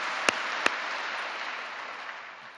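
A church congregation claps together in a sustained, dense wash of applause that gradually tapers off, heard at a moderate distance with no voices.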